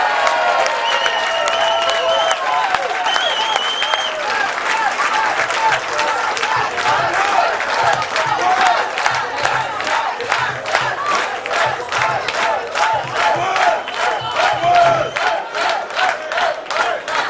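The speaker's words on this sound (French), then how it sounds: "c'est de très très chaleureux applaudissements pour notre coach Pascal Thibault" A basketball crowd applauds and cheers its coach after a match, sustained dense clapping with shouts and voices, turning into rhythmic unison clapping in the second half.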